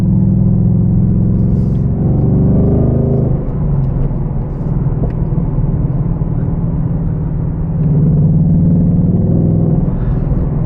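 A 2024 Ford Mustang Dark Horse with a six-speed manual accelerates, its loud, close engine drone rising and falling in pitch through gear changes against a steady low rumble, with no voices.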